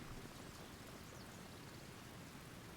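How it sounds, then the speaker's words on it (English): Steady rain in a Medieval Total War battle, a continuous soft hiss of falling drops at low volume, with no voices. "So I could just wait for the rain to stop"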